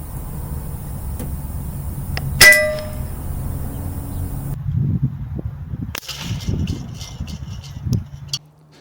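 Airgun fires an H&N Sport Rabbit Magnum slug into a metal spoon, giving one sharp, ringing metallic clang, followed by quieter handling knocks and rustles nearby.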